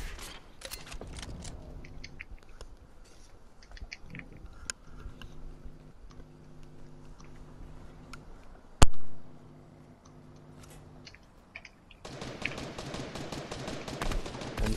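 Gunfire in Fortnite in a swamp area, with scattered distant shots and faint ticking under a quiet background. One sharp, loud shot stands out midway, then a denser burst of fire arrives near the end.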